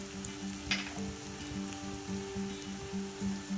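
Red chilli powder and spice masala hitting hot oil with onion browned to red in a pan, a soft steady sizzle under a rhythmic mechanical hum, fairly quiet and close.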